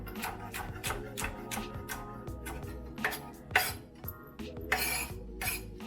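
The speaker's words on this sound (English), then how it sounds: "So I'm just rough chopping my shallot." A knife rough-chopping a shallot on a cutting board, a run of close, uneven taps and clinks with a few sharper knocks, set against a steady low background hum.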